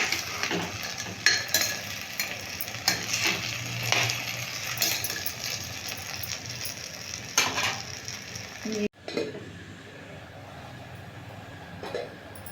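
A spoon scrapes and clinks steadily against a pan as chickpea curry with added salt is stirred, the rhythmic scraping carrying on for several seconds before stopping, with a faint sizzle beneath.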